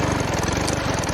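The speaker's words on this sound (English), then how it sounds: "let me start up my lawnmower here" A lawn mower engine runs steadily and close by, a continuous rough throbbing drone with an even pulse throughout and no voices over it.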